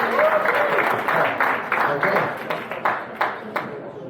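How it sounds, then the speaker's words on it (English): Audience clapping fills the clip, steady applause with a few louder claps standing out, fading slightly toward the end. "Round of applause."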